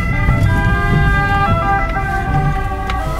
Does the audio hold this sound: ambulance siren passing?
yes